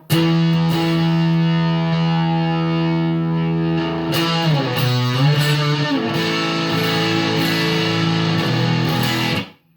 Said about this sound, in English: My first ever op amp distortion pedal.